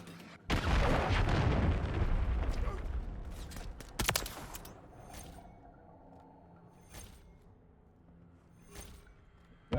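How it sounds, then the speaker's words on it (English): A cruise missile strike in a Call of Duty-style shooter hits with a sudden roaring blast that rumbles for a couple of seconds. Sharper gunfire-like cracks follow at intervals. "Hostiles launched a cruise missile."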